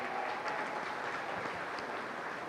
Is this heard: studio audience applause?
yes